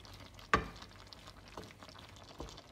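Tchakchouka cooks gently in a pan, a soft low simmering crackle broken by a sharp clink of a utensil against the pan and a couple of fainter stirring knocks, with no talking.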